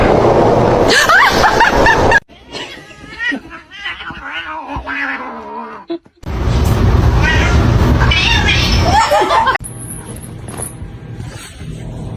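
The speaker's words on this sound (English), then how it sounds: "Meow. Meow." Loud, close meows and caterwauling in several bursts, mixed with snickering and brief voices, against abrupt shifts in background noise.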